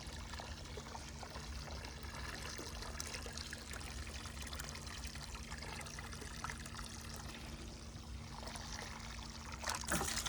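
Water from a classic hand pump trickles steadily into a bucket being filled in a garden, a soft continuous splashing under faint outdoor noise, with a brief louder burst at the end.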